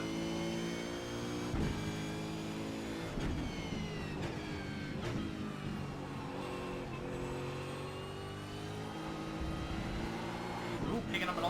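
An Australian Supercar engine in the iRacing sim revs hard as the car accelerates, rising pitch climbing through gear changes with brief shift dips, loud and continuous.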